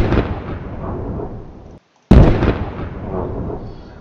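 Land mine explosion effect for an Unreal Engine 4 game: a loud booming blast with a long rumbling decay, a brief silence, then a second sharp explosion that rolls off into fading debris rumble.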